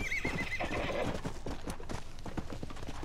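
A horse in the Western video game Red Dead Redemption: Undead Nightmare gallops with quick rhythmic hoof clip-clops and lets out a neigh, close and clear with game ambience behind.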